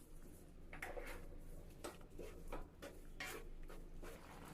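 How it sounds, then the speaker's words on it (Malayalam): Mashed apricots and sugar are stirred in a pan, giving soft, faint scraping strokes of a spoon against the metal at an irregular pace over a low background hum. "നന്നായിട്ട് ഇളക്കി യോജിപ്പിക്കുക."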